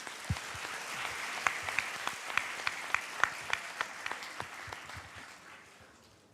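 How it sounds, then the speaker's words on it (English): A team receives a round of applause at a National Science Day award ceremony, with fairly faint hall clapping that holds steady and has a few sharper individual claps before it tapers off. "Let's have a big round of applause for them."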